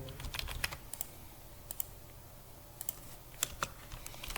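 Computer keyboard typing while writing C++ code, quiet scattered keystrokes in short irregular bursts with pauses between, close and alone.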